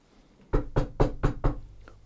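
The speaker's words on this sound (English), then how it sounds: "Rap on the door" Five firm, evenly spaced raps on a door, close and loud with a solid low thud, standing alone against a quiet background.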